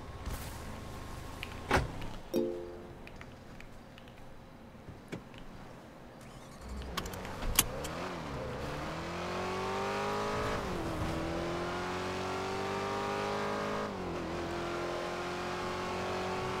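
In a car video game, a couple of sharp car-door clunks come first, then an engine starts and revs up in rising, climbing tones that settle into a sustained, steady drone.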